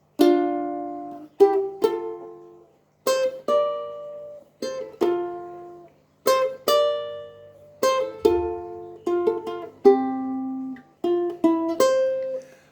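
Ukulele strummed and plucked in short bright phrases playing a guitar intro, each chord ringing briefly before a pause, clear and close with no voices.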